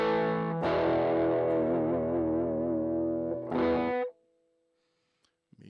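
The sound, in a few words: guitar through M-Vave Blackbox with Jazz Chorus JC12 cab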